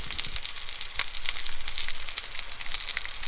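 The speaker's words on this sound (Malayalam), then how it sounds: "ഇനി നമ്മൾ മീറ്റ് ചെയ്ത് വെച്ച ചിക്കൻ ഇതിലേക്ക് ആഡ് ചെയ്യാൻ പോവാണ്" Marinated chicken sizzles in a pan for a chicken curry, a constant crackling fry with soft stirring scrapes, close and moderately loud, with no voices.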